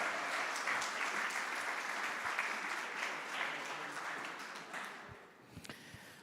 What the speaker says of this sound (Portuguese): Uma salva de palmas para esses irmãos.